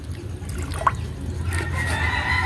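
Chickens heard nearby, with a short cluck and a faint crow-like call over a low steady background rumble.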